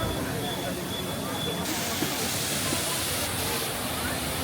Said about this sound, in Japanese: すごい滝が。